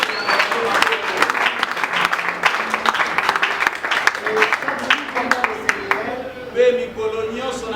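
Audience at a French-speaking church gathering applauding and cheering, dense sustained clapping with scattered shouts and voices, tapering off near the end as talk resumes.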